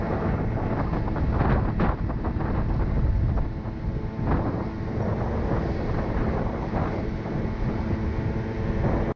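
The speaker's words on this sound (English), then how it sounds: "I felt like a real motorcycle rider cruising around the island on my 3 horsepower scooter." Steady, loud wind rush buffets the microphone while riding a small 3 horsepower scooter around an island, with a low engine drone underneath throughout and no talking.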